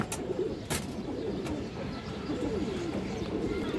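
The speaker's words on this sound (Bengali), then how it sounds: "একটা কালো গলা মাদি কৌতর" Pigeons at a market stall, including a black-necked female, coo softly in low throaty phrases under steady background hubbub, with a few sharp clicks.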